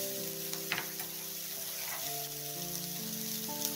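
Steady sizzling of food frying in a pan for paneer masala, continuous and fairly close, with a faint tonal hum running underneath and occasional small clicks.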